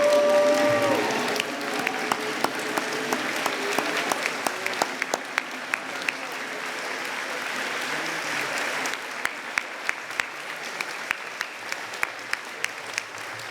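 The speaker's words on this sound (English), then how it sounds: "getting on your feet one more time and giving a round of" A banquet audience on its feet gives sustained applause, a dense wash of many hands clapping across a large room that holds steady throughout and stands alone without speech.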